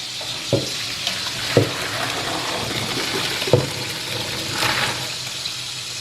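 Cooked pasta for carbonara is tipped into a sink to drain, giving a steady rush of pouring water with a few sharp knocks of the pot near the start.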